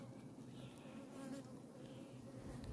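A dense, steady buzzing of many honey bees in an opened hive, close and continuous for a few seconds with no speech.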